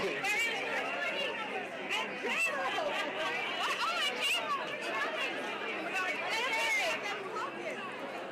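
Dense crowd chatter on a red carpet, a steady babble of many overlapping voices at fairly close range, with some louder nearby talk rising above the hubbub.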